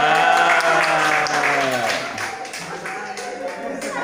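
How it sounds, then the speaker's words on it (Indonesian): Guests at a wedding committee disbanding gathering in Telukbetung clap together over lively overlapping voices, the sound loud and close before easing off slightly. "Tepuk tangan dong."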